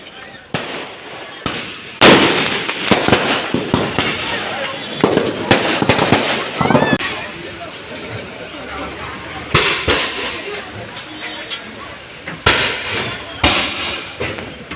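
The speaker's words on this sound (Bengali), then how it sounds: "এখানকার স্থানীয় লোকেরা সেটাকে সেলিব্রেট করছে বিভিন্ন ধরনের বাজি ফাটিয়ে" Firecrackers crack and pop in irregular bursts during a celebration of Sikkim election results, sharp bangs scattered over steady background noise with voices talking throughout.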